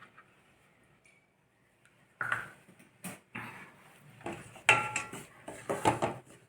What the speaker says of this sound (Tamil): கோதுமை மாவை நல்லா இதில் வந்து நெய்யில் போட்டு நல்லா வறுத்துக்கலாம்.